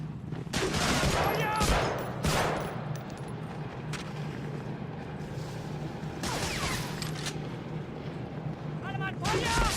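Gunfire in the PS2 World War II shooter Medal of Honor Frontline, with loud bursts and rattling shots scattered across the scene under steady battle noise, while voices talk over the action.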